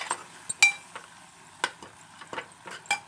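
Goat liver fry stirred in a pan with a utensil, giving sharp clicks and scrapes against the metal over a soft sizzle, close and fairly quiet, with no voices.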